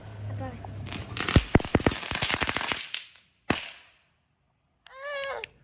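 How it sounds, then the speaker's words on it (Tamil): Diwali firecrackers burst in a rapid string of sharp, loud cracks and pops, followed by a single separate bang, with children's voices and talk heard around them. "டாடி வந்து பட்டாசு வெடிக்க போறாங்க, கிராக்கர்ஸ் வெடிக்க போறாங்க."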